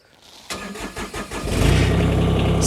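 A Branson 1905h 19HP sub compact tractor engine cranks with rhythmic starter pulses, then catches and settles into a loud steady idle.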